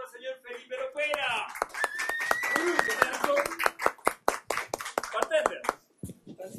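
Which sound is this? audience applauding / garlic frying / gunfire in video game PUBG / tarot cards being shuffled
audience applauding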